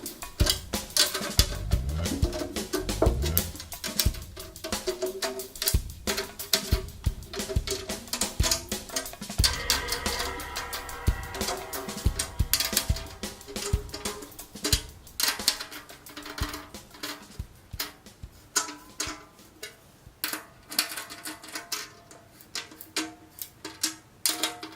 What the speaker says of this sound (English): So I'm just going to do 3 turns per lug.